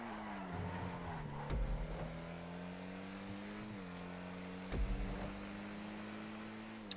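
A fully upgraded Lampadati Komoda races around a GTA test track, its engine holding a steady drone that dips and rises with gear changes, with a couple of louder revving surges.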